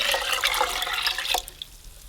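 Water pours into a pot holding black rice for purple sticky rice, a steady broadband splashing that runs about a second and a half, then drops away to a faint trickle.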